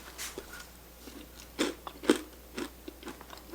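Crunchy homemade salad topping bitten close to the mic in a kitchen, several sharp crisp crunches spaced irregularly over a few seconds, with quiet chewing between them and no talk.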